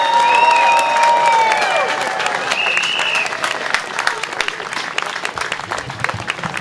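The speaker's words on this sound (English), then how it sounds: "Round of applause for Audrey White" Sustained audience applause follows a speech at a political anniversary celebration event, a dense, steady clatter of many hands filling the room with faint cheers. It continues for several seconds and slowly thins toward the end.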